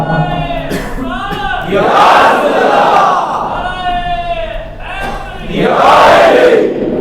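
A crowd at an Ahl-e-Sunnat religious gathering chants slogans in loud call-and-response bursts, a leader's shouted line answered by a massed roar from many voices, twice over, echoing in a large space.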